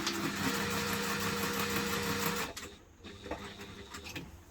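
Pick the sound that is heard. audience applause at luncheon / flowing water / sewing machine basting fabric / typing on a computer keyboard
sewing machine basting fabric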